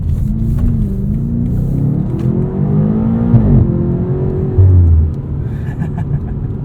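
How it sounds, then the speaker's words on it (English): A 2020 BMW M8 Competition's engine pulls hard under acceleration, its loud, close roar climbing in pitch and dropping briefly at each gear shift, with a deeper burst near the end and no voices. "Satisfying noises between gear shifts there."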